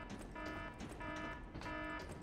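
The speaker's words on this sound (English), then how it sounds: "That is the most stereotypical alarm noise I've ever heard." Repeating alarm tone from the video game Lies of P, sounding in three sustained buzzing bursts with short gaps, steady and fairly loud over a busy game soundscape.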